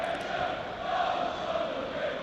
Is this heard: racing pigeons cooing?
no